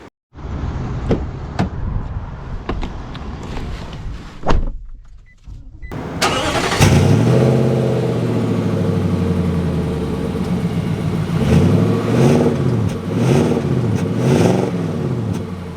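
A new Nissan Titan pickup truck cranks and fires up after some clicks and a moment of silence, then idles and pulls away, its engine rising and falling through several loud, close revs as it accelerates.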